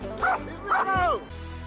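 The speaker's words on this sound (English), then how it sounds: "In training, this dog shows that it will do anything to protect its family." A dog gives a few sharp, loud barks and yips during protection training, close by, with short gaps between them, while a low steady hum runs underneath.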